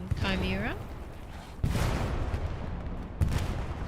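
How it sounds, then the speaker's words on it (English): A commander's artillery strike in Hell Let Loose lands as two heavy booms about a second and a half apart, with rumbling gunfire in between and a short burst of voice at the start. "The commander artillery strike inbound from Chimera."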